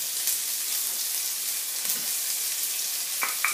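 Chopped onions sizzle in a hot pan with a steady bright frying hiss, broken by a few soft stirring scrapes near the end, with no voices.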